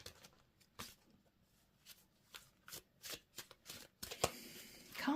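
A deck of tarot cards being shuffled close by, a series of soft riffling and slapping bursts in irregular rhythm, faint overall and without talk.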